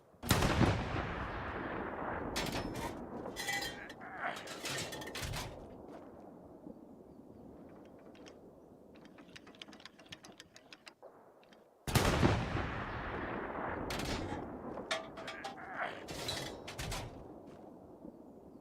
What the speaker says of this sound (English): I'm firing on the back end because they're pushing in the front.